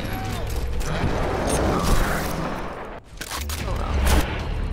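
Gunfire in the video game Falling Titans, a dense, loud spray of shots and mechanical clatter running nearly throughout, with a brief dip near the end and players talking over it.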